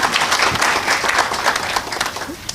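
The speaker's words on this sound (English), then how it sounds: "Another round of applause." Audience applause at a national border management conference in a hotel hall, a dense, steady wash of many hands clapping that holds throughout and tapers slightly at the end.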